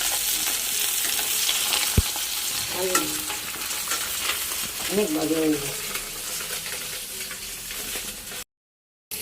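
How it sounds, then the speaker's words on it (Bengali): Four pieces of food deep-frying until crisp in a home kitchen, a steady broadband sizzle with occasional stirring clatter, while someone talks briefly over it. "কড়া করে ভাজা"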